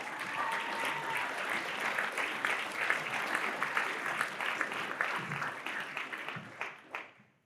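Audience applause fills an evening hall-of-fame ceremony as a speaker is welcomed to the stage, a steady dense clapping that holds for several seconds before thinning out and fading away.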